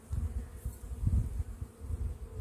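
A large, strong colony of honey bees hums in a dense, low, continuous buzz that swells and fades slightly, close and steady, with no voices over it.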